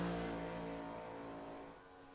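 A race car engine from an iRacing sim lap at Indianapolis holds a steady, droning, harmonic tone that slowly fades slightly, heard alone with no talking.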